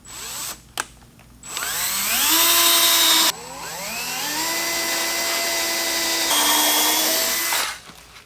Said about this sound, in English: We're going to do a pilot hole.